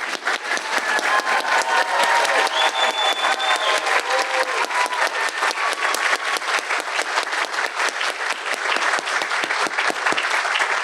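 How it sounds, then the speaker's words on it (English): Sustained loud applause from a ceremony audience for graduates at a 2022 master's hooding ceremony of a university college of business and economics, dense steady clapping lasting throughout with a faint crowd murmur. "please join me in applauding their accomplishments"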